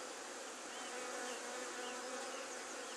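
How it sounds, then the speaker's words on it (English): Honeybees swarming around a nuc box as a swarm moves in with its queen, giving a dense, continuous buzzing hum that stays steady and fairly loud throughout, with no talking. "there's a couple of bees around here"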